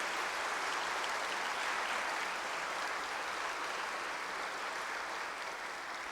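A large audience at a Gyeonggi Province 80th Liberation Day ceremony claps in a dense, even wash of applause, sustained and loud throughout with no speech over it.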